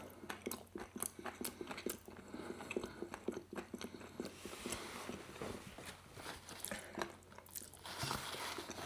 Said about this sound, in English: Nice bit of crunch to the black puddings